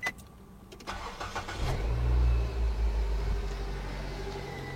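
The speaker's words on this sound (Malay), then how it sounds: "Jadi sekarang bolehlah kita cuba untuk hidupkan enjin." A car engine cranks briefly then catches and starts, settling into a steady, loud idle rumble close by.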